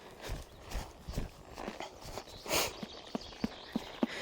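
Horse trotting at an extended trot, hooves striking the ground in a quick, regular clip-clop rhythm, close and fairly clear, with sharper individual hoof beats toward the end.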